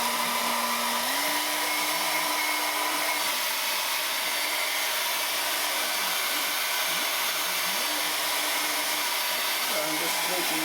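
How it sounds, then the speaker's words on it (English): A hair dryer blows steadily on a PlayStation 3 that has the yellow light of death fault. Its loud, continuous motor whir and airflow hiss run unbroken throughout, with slight shifts in pitch. "So I'm just taking a hair dryer."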